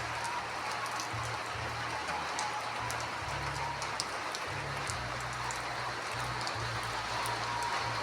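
Steady rain falls around a house, a continuous even hiss of drops with faint taps, under a low hum and no talking.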